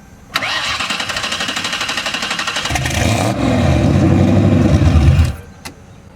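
Engine on a boosted car refitted with big injectors cranks, catches and fires up, running rough and loud for several seconds with a heavier, deeper surge midway before cutting back, heard close with no talk.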